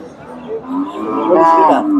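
A six-tooth Jersey dairy cow moos at a cattle market in Bogura, one long loud close bellow that rises and swells toward the end.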